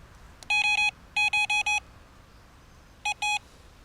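Fishing bite alarm beeping in loud electronic bursts, a quick run of four tones, then another four, then a pause and two more, close and clear with no talking.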